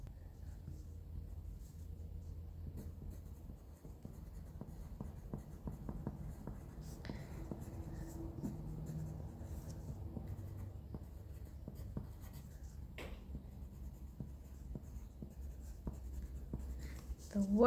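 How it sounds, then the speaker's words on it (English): Pen or pencil moves across paper in a quiet room, making a soft continuous scratching with small taps and strokes throughout, close and gentle, with faint background noise. "we're going to write underneath about how we feel"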